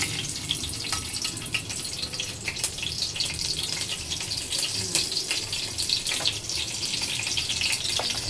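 Green chilies fry in hot oil in a home kitchen for sabudana khichdi, a dense, continuous sizzle with scattered crackles heard close up, without any speech.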